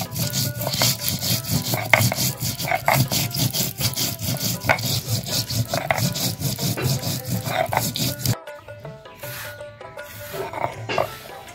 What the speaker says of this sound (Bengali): বেটে নিব শুকনো লঙ্কা,